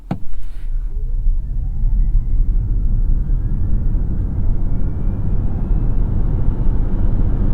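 A 2022 Kia EV6 electric car accelerating hard from a stop, a steady loud rumble of road and wind noise with a faint rising whine building over several seconds, no talking.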